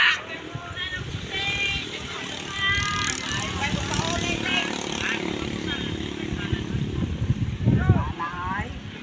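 Two pump boat engines, a Pro Quip 18 hp and a Yamaha 16 hp, race on the water with rising and falling whining drones, while people talk over them throughout.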